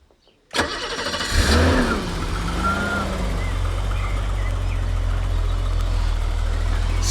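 A BMW E24 6 Series with a six-cylinder engine, about thirty years old, cranks and fires after a brief silence, then settles into a steady, even idle hum that stays loud and close.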